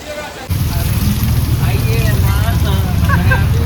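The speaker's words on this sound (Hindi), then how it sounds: "यार, बारिश तो तेज होती जा रही है।" Heavy rain pours steadily on the road from Prayagraj toward Patna, starting abruptly and continuing as a loud, dense wash of noise.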